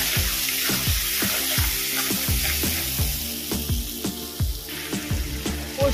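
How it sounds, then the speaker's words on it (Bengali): Poppy seed and chili-ginger paste fry in oil left from frying fish, with a continuous sizzle broken by a regular rhythm of stirring and scraping strokes in the pan. "আমি এই মাছ ভেজে রাখা তেলের মধ্যে দেব পোস্ত আর লঙ্কা আদার পেস্ট।"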